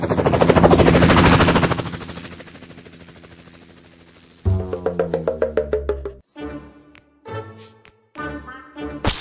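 Rapid bursts of machine gun fire blend with a loud, thumping helicopter roar, then sharp repeated gunshots crack out in uneven volleys, close and loud.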